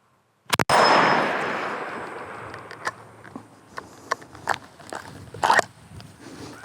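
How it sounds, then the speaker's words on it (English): A single loud shot from a BRNO ZH205 combo gun's rifle barrel chambered in .22 Savage High Power, a sharp crack followed by a decaying outdoor tail and several scattered clicks and clanks. "And now we'll shoot with the 22 Savage high power."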